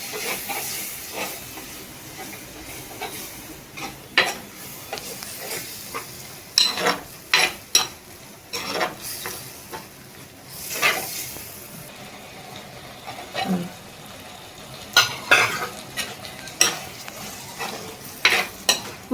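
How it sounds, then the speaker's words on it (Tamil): Ground pirandai (adamant creeper) paste sautéing in a pan for kuzhambu, a soft continuous sizzle broken by repeated scraping stirs of a spoon, close and fairly quiet. "பிரண்டையை அரைச்சி வந்துட்டு அதை ஊற்றிடலாம். இதை நல்லா வதங்கணும்."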